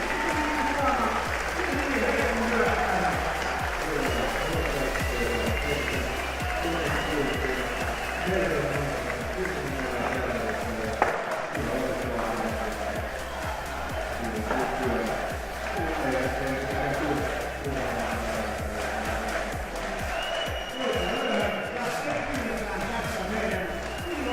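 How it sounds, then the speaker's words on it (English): A large crowd at a Counter-Strike: Global Offensive tournament final roars and applauds continuously, a dense wash of cheering and clapping that stays loud throughout, with voices mixed in. "you could hear the crowd definitely excited"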